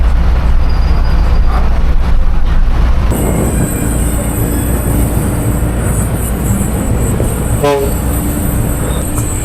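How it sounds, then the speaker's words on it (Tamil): Train rolling through Jolarpettai railway junction, a loud continuous rumble of wheels with a high squeal joining partway and a short horn toot near the end. "ட்ரெயின் போகிறத பார்த்துட்ருக்கீங்க"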